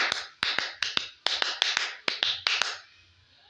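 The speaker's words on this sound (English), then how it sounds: "we are going to clap our hands and know exactly how to clap for semi-quiver" Hands clapping a semi-quaver rhythm in music practice, crisp close claps in quick groups of four with brief pauses between groups, ending after a short silence.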